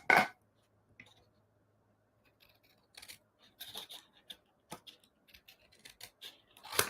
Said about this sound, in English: you just want to trim the edges